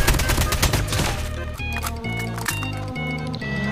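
Rapid automatic gunfire in Call of Duty Mobile, with dense bursts of shots layered over steady game music with repeating notes.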